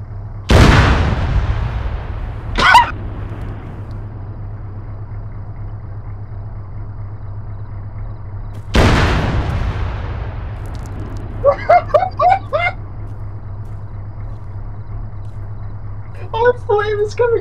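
Two heavy artillery strikes in the ArmA 3 video game, each a sharp booming impact followed by a long rumbling tail, about eight seconds apart over a steady low engine drone, with a sharp crack after the first and brief voices after the second.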